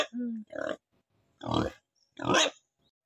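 Pig grunts in a short burst of separate low, throaty calls with gaps between them, fairly close and moderately loud, mixed with a voice speaking nearby.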